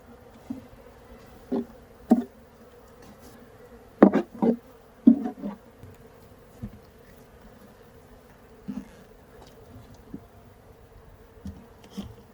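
Honeybees newly installed at a hive buzz in short bursts close by, with intermittent loud passes over a quiet background and no talking.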